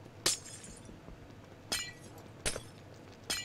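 Glass panes shattering in Minecraft, four separate bright crashing breaks spaced over a few seconds, each a sharp burst with a short tinkling tail over a quiet background.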